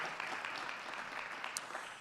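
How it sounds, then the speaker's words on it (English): Steady applause from an audience at a town hall meeting in a high school, fairly distant and even, with scattered individual claps. "Can you give him a round of applause?"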